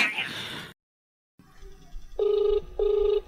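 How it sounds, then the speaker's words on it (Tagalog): A phone ringback tone sounds twice in steady, evenly spaced bursts after a brief pause, following a short stretch of speech while a call is being placed. "Ay, matawagan na si Adan."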